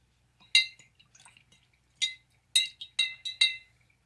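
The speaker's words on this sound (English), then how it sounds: "Now add little bit of food coloring into the water and mix completely." Spoon stirring food coloring into water in a glass jar, a series of sharp clinks against the glass with soft liquid swirling, close and alone.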